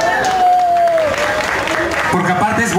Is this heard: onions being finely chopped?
no